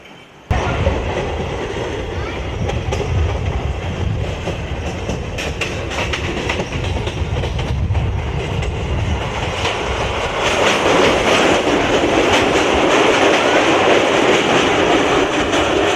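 The 07520 Malda Court Local, running from Siliguri Junction toward Aluabari Road Junction, fills the space with a loud, continuous rumble and rapid wheel clatter on the rails, growing slightly heavier toward the end.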